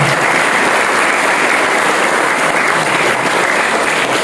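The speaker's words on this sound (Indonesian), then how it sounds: "Berikan tepukan yang meriah untuk beliau yang telah hadir." An audience at an Isra Mi'raj commemoration at a junior high school in Cilacap claps loudly and continuously, a thick, even roar of many hands close by with no voices.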